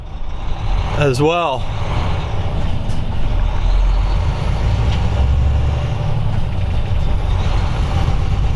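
Volvo truck with an I-Shift automated transmission slowing down, a loud, steady low engine drone with a brief rising and falling whine early on, heard from the cab while someone speaks over it.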